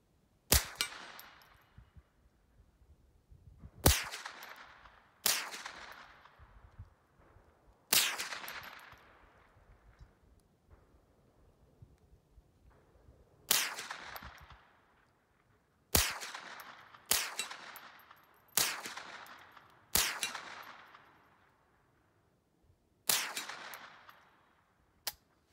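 Roughly a dozen sharp, separate shots from a Ruger 10/22 rifle fired at a target, spaced irregularly over time. Each crack has a short ringing tail, and there is no talking between shots.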